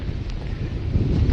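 Strong cyclone winds from Nisarga batter the microphone at Nariman Point in south Mumbai, making a loud, blustery rumble that builds steadily across the brief moment, with no speech.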